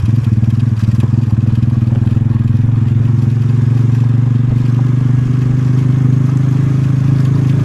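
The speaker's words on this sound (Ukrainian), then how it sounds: "дуже ніжний моторчик. Приємний такий." A Mustang 250 9R motorcycle engine runs steadily in third gear while riding down a street, a loud, close, continuous low drone with a fine rapid pulse and no speech.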